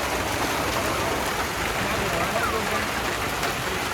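Steady, dense rain pours down outdoors in Kenya, a constant hiss with no let-up that fills the whole stretch at moderate loudness.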